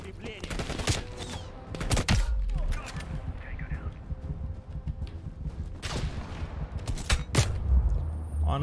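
Gunfire in Call of Duty: Black Ops Cold War comes as scattered sharp shots and short bursts over game ambience, with a player talking in between.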